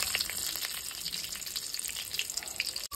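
Black cumin seeds and slit green chillies sizzle in hot oil for tempering, a close, continuous crackling fry with bright spitting pops throughout.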